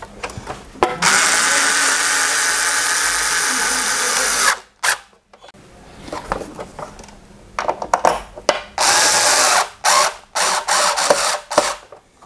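A power driver whirs in sustained bursts, then in short stop-start pulses, as a nut is tightened on a distribution board; close and fairly loud with no talk.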